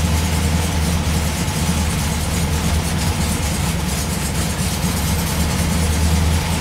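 A 1967 VW bus engine that sat unused for a year idles after a cold start, a loud steady low rumble with a rapid even chug, slightly uneven, running alone nearby.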